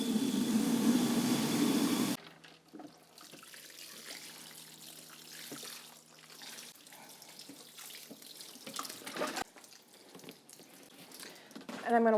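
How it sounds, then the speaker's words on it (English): Water poured over seedling trays filled with vermiculite-topped mix: an opening two-second burst of loud, steady running water, then quieter trickling and dripping with soft handling noises, close by. "And I'm going to water those in."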